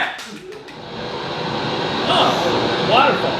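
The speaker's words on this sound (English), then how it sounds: "Oh, waterfall." Waterfall in a sound guessing game, a broad steady rushing roar of falling water that swells slightly over a few seconds, with voices talking over it.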